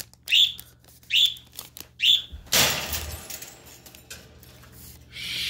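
A pet bird named Zeus chirps in three short, bright bursts about a second apart. Then a louder, rougher squawk comes, followed by a noisy rustle. The bird is close and sounds on its own, with no talk.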